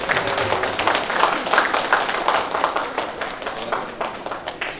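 Applause breaks out at a book launch event in Geumcheon, Seoul, a moderate crowd clapping in a steady patter that gradually thins toward the end.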